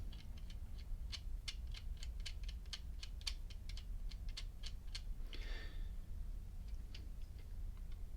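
A screwdriver pushes debris out of a lighter spark wheel. It makes a rapid series of tiny, faint metallic ticks and scrapes, evenly spaced, with a brief scratchy rasp partway through, over a low steady background hum and no talking.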